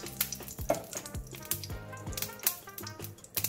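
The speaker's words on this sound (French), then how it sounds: "dans une poêle à feu très vif, on va mettre un peu d'huile d'olive" Olive oil sizzles in a very hot frying pan as part of cooking beef fillet, a dense crackling hiss broken by sharp pops and clatters, close and busy with no talk.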